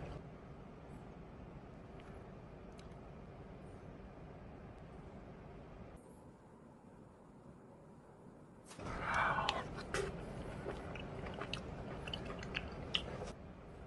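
Hawaiian mushroom pizza, made without flour or an oven, being chewed close to the mic, with soft wet bites and crunchy mouth sounds that grow louder in the second half over a faint background hum.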